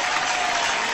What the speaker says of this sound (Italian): Applauso, applauso, applauso.